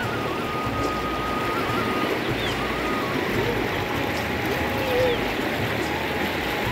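The flooded Sina river flows past a rural village as a continuous, even rush of water heard from the bank at moderate level, with no pauses.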